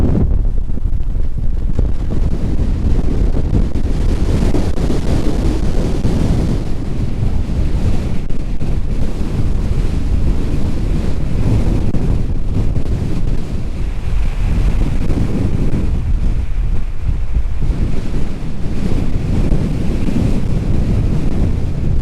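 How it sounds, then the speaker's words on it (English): Strong wind roars across open sand dunes at High Dune in a national park, buffeting the microphone in a loud, continuous rush with gusty swells and no voices. "It's so windy."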